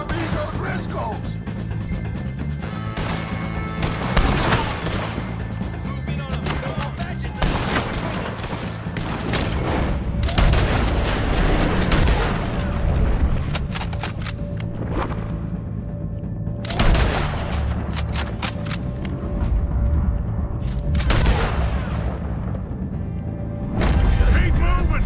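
Gunfire during a shootout with O'Driscoll gang members in Red Dead Redemption 2: repeated sharp rifle and pistol shots and booms, some close and loud, some more distant, scattered irregularly throughout with shouting voices over the top.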